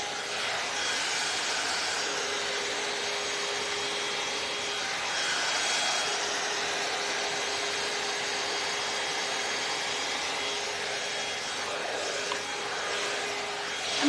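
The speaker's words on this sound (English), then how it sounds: "You could also use this just as a straightening brush or just as a hair dryer." A L'ange AIRess hot air brush hair dryer blows a steady, loud airy rush that runs unbroken throughout, with a thin constant whine beneath and slight swells in intensity.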